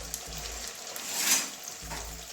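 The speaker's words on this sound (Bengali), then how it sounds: "তেলটা গরম হয়ে গেছে, আমি এইভাবে পরোটা ছেড়ে দিচ্ছি।" A paratha fries in hot oil in a wok, giving a steady close sizzle with a brief louder hiss swelling in the middle, and no voices.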